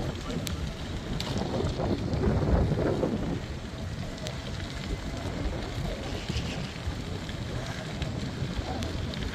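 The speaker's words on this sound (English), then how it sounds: "Wind's going to pick up now a little bit." Wind gusting outdoors along the C&O Canal towpath near Harpers Ferry, a rough rushing roar that swells around the second and third seconds and then settles into steady buffeting, with a voice speaking briefly.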